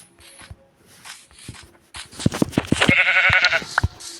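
Sheep in the Minecraft video game bleat repeatedly among soft game footsteps, with a louder, wavering bleat near the end, all close and clear.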